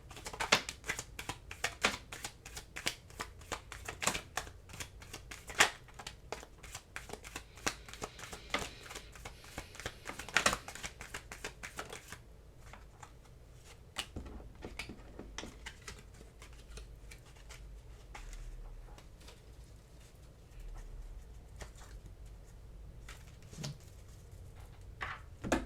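Tarot cards being shuffled by hand: quick crisp riffling and flicking bursts, dense for the first half, then sparser taps and slides, close and fairly quiet, with no talking.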